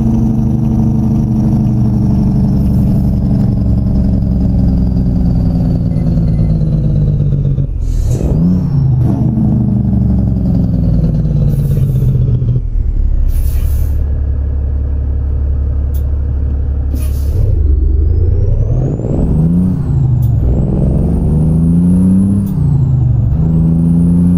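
A big Cummins truck engine in American Truck Simulator rumbles and revs loudly with deep exhaust, pitch climbing and dropping through gear changes, with short hissing bursts like air brakes.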